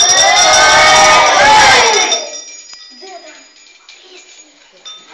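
A group of second-grade boys performing a Romanian New Year caroling tradition shout and cheer together in a loud burst for about two seconds, then the noise drops to quieter background sounds.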